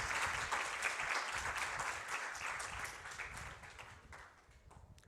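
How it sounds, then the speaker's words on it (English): An audience claps at a Pakistani news talk-show event honoring a guest, with steady, moderately distant applause lasting several seconds before it thins out at the end. "please big round applause"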